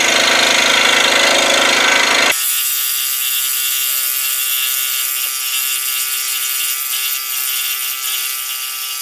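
Power saw, likely a scroll saw, cutting maple intarsia butterfly pieces: a loud, coarse buzzing burst for about two seconds, then a steady high-pitched motor whine with a faint tone running on alone.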